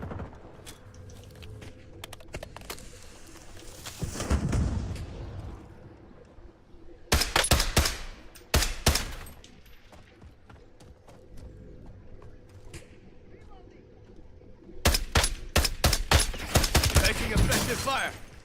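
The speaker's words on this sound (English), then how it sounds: "Taking effective fire!" Rapid bursts of video game gunfire in a wartime battle crackle in dense clusters, loud and close, separated by quieter stretches with scattered shots and faint movement.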